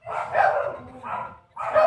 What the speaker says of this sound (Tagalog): aso nyo, ang ingay eh.